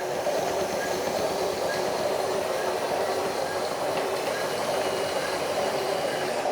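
A JDM208 RC Liebherr 920 pro version model excavator turning in place, with added engine sound: a steady, loud mechanical drone with clattering texture that holds unbroken throughout, with no voices.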